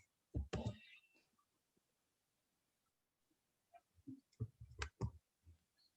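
A computer mouse clicks in a quiet room, with a few sharp clicks near the start, a pause, then a cluster of several close, crisp clicks.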